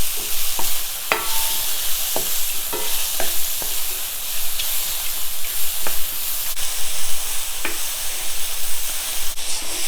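Mushrooms sauté with garlic powder in a hot pan, giving a loud, steady sizzle broken by scattered clicks and scrapes of stirring.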